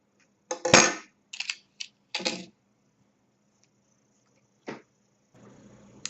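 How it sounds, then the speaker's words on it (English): Scissors cut a green Red Heart Super Saver yarn stem to length for a small crocheted flower, a handful of crisp snips in a short cluster, close and clear against silence. "then you just take your scissors and you just cut it"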